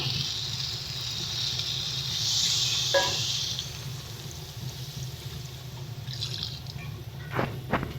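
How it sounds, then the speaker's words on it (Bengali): Water poured into a pan of curry being cooked with flat beans and lentil dumplings, a steady liquid rush and drip under a constant cooking hiss, with brief splashy pours near the middle and the end. "তো চলো দিয়ে দিচ্ছি পরিমাণ মতন জল"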